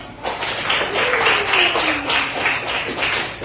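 An audience claps their hands together after a presentation, a dense, steady patter of many hands lasting a few seconds, with a faint voice underneath.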